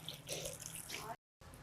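Water is poured from a tumbler into a pot of rice for biryani, a close splashing trickle lasting about a second, then a short break and a little more pouring.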